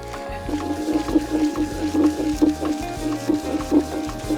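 Stone repeatedly smashing wet almonds with a little water into a paste, giving rhythmic squishy, wet thuds in quick succession, close and moderately loud with no talking.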